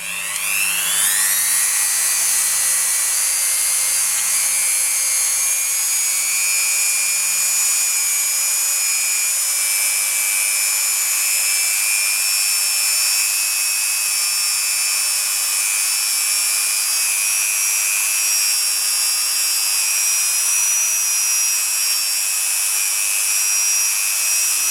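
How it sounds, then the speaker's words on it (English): A handheld buffing tool polishes a polymer clay pendant with a steady high-pitched whine that spins up in the first second, then holds loud and continuous throughout with no talking. "Then I'll bring over a buffing tool, and I'm going to buff this"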